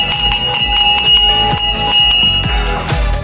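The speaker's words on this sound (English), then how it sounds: "All right, Brennan, come on, ring the bell, come on." A celebration bell rings repeatedly amid loud music, its sustained metallic tone hanging steadily over pounding beats and thumps throughout.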